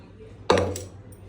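A single sharp metallic clank of a pressure cooker being set down or handled nearby, ringing briefly before fading.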